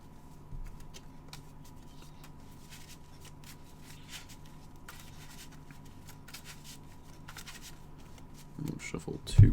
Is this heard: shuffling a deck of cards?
yes